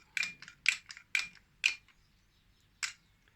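A handheld tyre plugger tool, pumped to repair a tubeless tyre, clicks and ratchets in quick mechanical bursts, four in a row, then a pause and one more.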